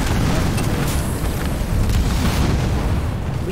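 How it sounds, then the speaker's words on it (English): Deep rumbling booms of grenade blasts roll through a Halo Wars 2 battle, a steady low, loud roar with faint bursts rising over it and no clear gaps. "Use your grenades, Marines!"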